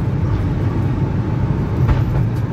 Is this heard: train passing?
yes